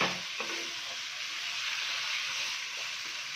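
Chicken pieces fry over high heat in a pan, giving a steady, loud broadband sizzle with a few faint stirring scrapes near the start, close and continuous with no voices.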